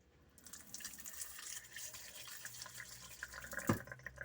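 Fresh drinking water runs from the galley tap on a boat, a continuous close splashing flow into the sink with a brief louder gush near the end, no talking.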